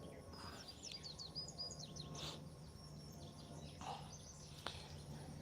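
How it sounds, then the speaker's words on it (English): Birds chirp and trill outdoors in rural North Carolina countryside, with quick high calls and a few fuller songs over a faint, steady background hum and a thin insect drone. "You might be able to hear some of the birds out here."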